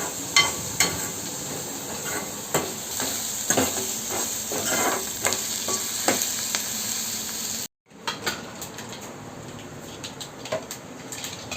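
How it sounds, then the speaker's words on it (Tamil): Ivy gourd (kovakkai) poriyal frying crisp in a pan gives a continuous close sizzle and hiss, broken by repeated stirring clicks and scrapes. A brief cut of silence comes before the frying resumes. "பக்கத்துலேயே பொரியல், கோவக்காய் பொரியலுக்கு வறுவல் மாதிரி நல்லா கிறிஸ்பியாக"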